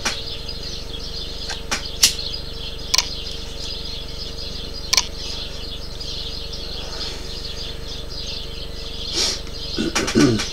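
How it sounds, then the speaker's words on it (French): Small birds chirp outdoors in an open meadow, faint scattered tweets and calls over a steady background hum, with a few sharp clicks and a busier flurry near the end. "On entend les petits oiseaux quoi."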